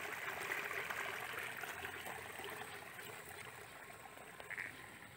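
Irrigation water running steadily through a field ditch on a farm's lower fields, a continuous close trickling and babbling flow with no voices.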